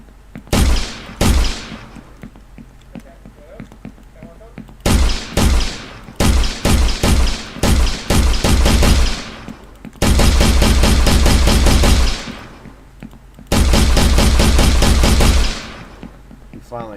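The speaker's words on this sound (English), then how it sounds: "We pull out our pistol." Pistol gunfire aimed at zombies in a video game, loud sharp shots in quick bursts and sustained rapid strings, with a voice heard faintly between them.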